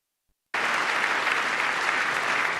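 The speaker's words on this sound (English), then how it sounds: "everywhere I jump in the video, guys, it's an applause break" A studio audience at a comedy talk show breaks into sudden, loud, sustained applause after a brief silence.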